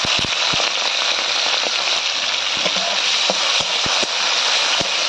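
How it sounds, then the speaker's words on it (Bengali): Prawns hit hot oil seasoned with dried red chilli, bay leaf and black cumin, giving a loud, steady, close sizzling hiss scattered with sharp pops and crackles throughout, with no voices. "এই ফোড়নে চিংড়ি মাছ দিয়ে দেবো"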